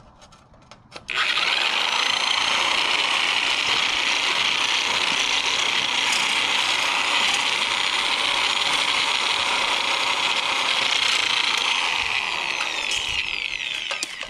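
Genesis electric metal shears cutting through a hemmed, double-thickness steel roofing apron start up with a click, then run as a loud, steady mechanical buzz and chatter for about thirteen seconds, close up with no talk.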